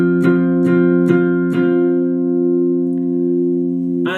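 Rhythm guitar plays the intro riff of a song, four strummed down-strokes of a sustained chord ringing out, then a fresh strum at the end, close and clear.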